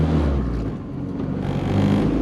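A B20V turbo engine hums and drones steadily from inside the car on a spirited drive, a loud continuous low rumble with slight swells in revs and no voices.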